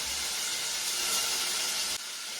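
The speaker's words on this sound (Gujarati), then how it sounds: "જો ગાઈસ વઘાર તો થઈ ગયો" A spice tempering crackles in hot oil in a pan, a close, bright hissing sizzle that runs steadily, then drops off sharply near the end with no voices.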